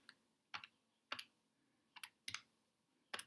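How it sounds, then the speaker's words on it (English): Calculator buttons pressed while solving quadratic equations, heard as five or six sharp, quiet clicks spaced about half a second apart, close and isolated against near silence. "Then grab my calculator and put in one with a plus sign."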